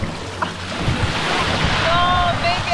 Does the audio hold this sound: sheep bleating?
no